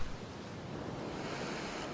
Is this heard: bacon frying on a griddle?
no